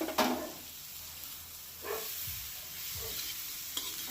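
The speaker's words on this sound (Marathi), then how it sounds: "तो सुद्धा आपल्याला असं चांगला परतून घ्यायचा आहे" Tomatoes sauté in a pan for onion and dried bombil chutney: a quiet, steady sizzle broken by a few brief spatula scrapes and stirs.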